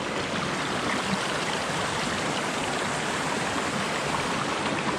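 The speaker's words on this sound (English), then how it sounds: "down to this little brook" A small mountain brook flows steadily over rocks near a roadside campsite area, a continuous close rushing and babbling with no pauses and no voices.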